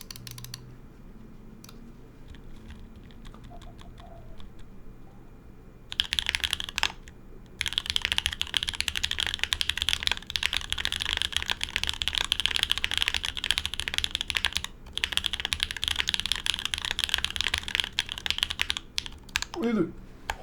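Typing on a Neo65 mechanical keyboard with an O-ring mount, case foam and a carbon fiber plate, a steady close run of clacking keystrokes with short pauses, quieter at first and then dense and continuous.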